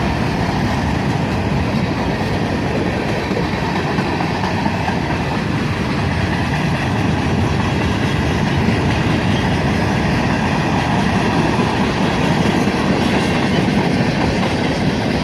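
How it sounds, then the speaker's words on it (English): Freight cars of a long northbound manifest train, led by two GP38 locomotives, roll steadily past up close, a continuous loud rumble with faint clickety-clack from the wheels. "a pair of GP38s lead this big manifest train northbound"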